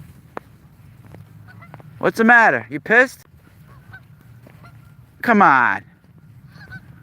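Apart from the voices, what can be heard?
migrating geese honking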